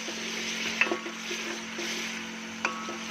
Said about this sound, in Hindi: साथ साथ हम टमाटर की, प्याज की, जीरे की भुनाई करेंगे